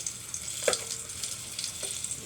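Garlic sautéing in oil in a pan for spicy sardines, a steady bright sizzle with a couple of soft clinks of a utensil, close and continuous.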